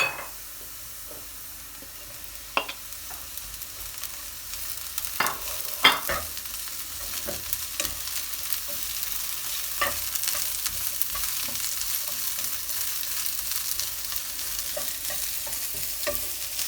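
Peppers and carrots stir-fry for homemade noodles: a soft, constant frying hiss broken by scattered light clicks and clatters of stirring, growing slightly louder partway through.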